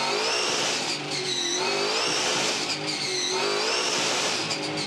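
V8 Supercars with 650-horsepower E85-fuelled engines rev loudly together on the grid at Phillip Island, a dense continuous roar with rising and falling pitch sweeps from several cars.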